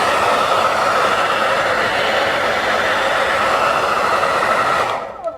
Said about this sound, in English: You can use a hairdryer, totally fine.